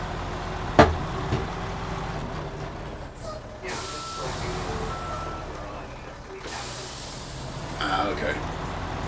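Truck engine idling and rumbling in the snowy off-road driving game SnowRunner, a steady low drone with air-brake hisses and mechanical clunks, a loud knock near the start and voices talking over it.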